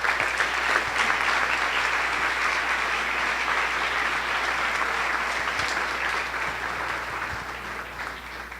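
A church congregation applauds loudly and steadily during a Sunday service, the dense clapping holding at an even level for the whole stretch with no pauses.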